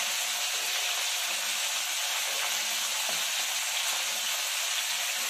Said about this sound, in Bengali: এগুলোকে একটু লাল করে ভেজে নিব।